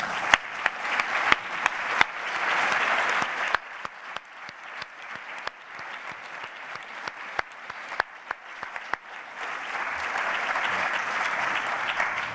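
An audience applauding at the closing of a medical imaging conference, sustained, fairly distant clapping from many hands with a few sharper individual claps standing out, swelling again near the end.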